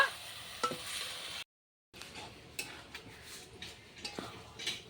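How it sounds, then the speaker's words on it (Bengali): Banana flower being sautéed with salt and spices in a pan, the spoon stirring and scraping against metal in short bursts over a faint sizzle, with a brief silent gap early on. "এখন এই ভালো করে মশলা দিয়ে কলার মোচাটা ভালো করে কষিয়ে নিব।"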